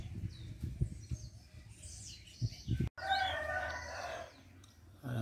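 Male pet canary-type songbird singing loudly and continuously in short bursts to attract its female, close to the microphone, with some clucking rooster-like calls and background noise.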